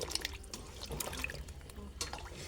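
Cut eggplant being washed by hand in a bowl of water, with soft sloshing and scattered small drips and trickles, quiet and close throughout.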